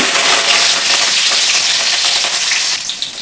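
Cumin, chopped green chillies and curry leaves sizzle loudly in hot oil, a dense continuous crackle and hiss that eases slightly near the end.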